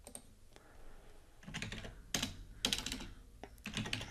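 Fingers tap on a computer keyboard up close in short irregular bursts of clicking keys, with brief pauses between flurries.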